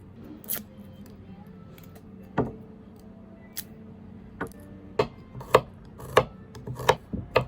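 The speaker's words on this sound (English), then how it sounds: "We only need 1 garlic today." A knife chops garlic on a board. Sparse, crisp strokes start slowly, then come quicker and closer together in an uneven rhythm over a quiet background.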